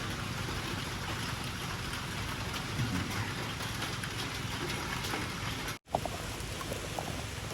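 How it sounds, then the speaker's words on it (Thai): Steady rain hisses throughout in a mangrove forest near the sea, a dense even patter with a brief dropout near the end. "ฝนตกซะแล้วนะครับ"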